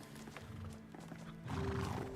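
Horse hooves clip-clop in a video game, a short burst of steady hoofbeats with a brief neigh-like tone over a low background hum.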